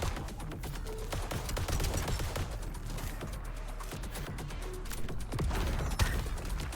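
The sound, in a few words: hip-fire gunfire from the video game VOID/BREAKER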